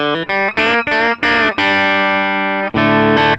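Electric guitar through an amp with a compressor, dialed for a specific tone, plays several bright, bold picked phrases, then a long sustained chord, loud and clear with no talk.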